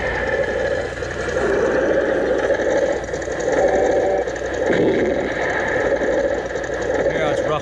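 Steady mechanical rumble of an engine running at idle, with a rhythmic chugging texture under mumbling voices throughout.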